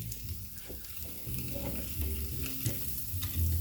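A steak bone sizzles on a smoky grill as it is flipped, a soft crackling fry with small scrapes and pops, close and fairly quiet, with no talk.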